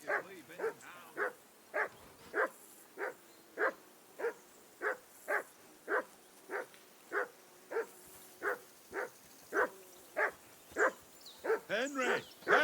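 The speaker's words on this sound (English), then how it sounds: "Be quiet, you bleeding hound." Dog barking in the medieval video game Kingdom Come: Deliverance: a long run of about twenty sharp, evenly spaced barks, fairly close and steady, ending in a quicker jumble of yips.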